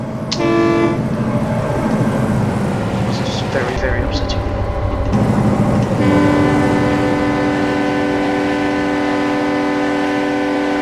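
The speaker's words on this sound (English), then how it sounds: "I'm surprised the horn doesn't get quieter the further away it goes" A locomotive horn from an EMD F7 in a train-driving game sounds as loud, sustained multi-tone blasts that break off briefly and then resume and hold steady, while someone talks over it.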